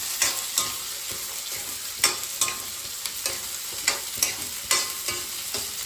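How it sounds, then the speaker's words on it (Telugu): Three chopped onions fry in a hot pan with a steady bright sizzle, and a spoon scrapes through them in repeated stirring strokes, close and clear without any talking. "మంచిగా వేయించుకోవాలండి."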